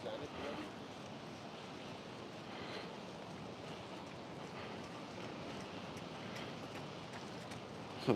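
Ocean waves wash steadily along a Mexican beach, a soft, continuous surf hiss with a bit of wind and no talk.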